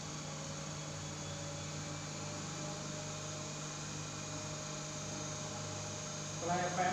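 A DC motor drives a three-phase synchronous generator on a lab machine kit, running up to 1500 RPM, giving a steady electrical hum with a constant tonal whine throughout, and a small rise near the end.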